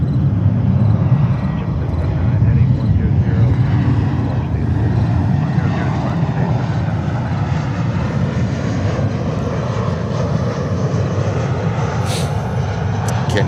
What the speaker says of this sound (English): And of course we also have the Delta 767s. This one is departing to San Francisco, California.